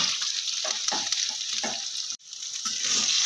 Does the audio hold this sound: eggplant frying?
yes